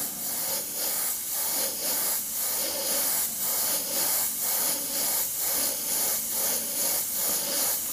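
An airbrush spraying paint in light dusting passes: a close, steady hiss that pulses in regular, evenly spaced bursts, with no voices.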